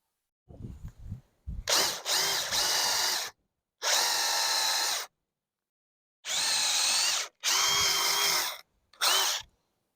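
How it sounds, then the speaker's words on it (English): A power drill pre-drills holes in a wooden fence, whirring loudly in four or five short bursts separated by brief silences, with a few faint knocks at the start. "I'm gonna pre-drill 2 holes at the top and 2 holes at the bottom"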